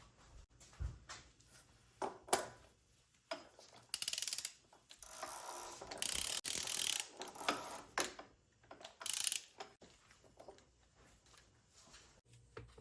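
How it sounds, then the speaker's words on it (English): A ratchet tightens the oil filter housing on a Volvo 3.2L inline-six during an oil change, giving bursts of clicking pawl ratchet strokes with pauses between, close and moderately loud, no talk. "We're going to tighten the oil filter housing down to 25 Newton meters, which comes out to about 18 foot-pounds."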